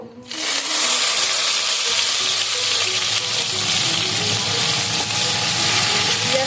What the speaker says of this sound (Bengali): এখন গ্রেট করে রাখা পেঁয়াজটা আমি দিয়ে দেব